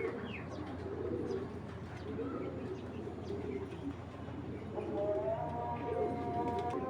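A racing pigeon gives soft, low coos among other pigeons, fairly faint, with a faint voice and small chirps in the background.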